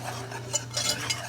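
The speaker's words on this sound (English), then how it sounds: "I'm going to mix that up here and get it ready for the boiling water" A utensil stirs lemon tart filling in a bowl, giving soft scraping swirls with a few sharper clinks against the bowl over a steady low hum, close up with no talking.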